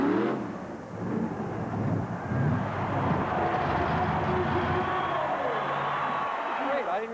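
A monster truck's engine roars continuously and loudly at the 1986 USHRA Truck Pull Championships in East Rutherford, New Jersey, a dense mechanical rumble with crowd noise mixed in and a few shifting tones.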